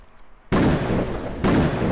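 Two loud sharp bangs, like gunshots or fireworks, each with a booming decay, spaced about a second apart after a quiet start.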